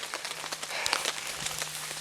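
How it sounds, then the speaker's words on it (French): Light drizzle falling in a forest at a bushcraft bivouac, a faint scattered patter of drops tapping on surfaces, soft and irregular over a quiet outdoor background. "on est dans une bruine avec un peu de pluie"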